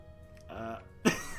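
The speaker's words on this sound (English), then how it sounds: "I'll stop my giggling and clear my throat." A single throat clearing, a short rough vocal rasp near the end after a soft murmur, close and fairly quiet.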